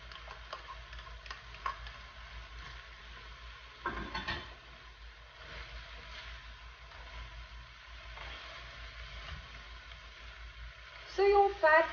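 Celery stir-frying in rendered chicken fat for pancit bihon gives a low, steady sizzle with faint stirring scrapes, a louder burst of activity near the start and again at the end.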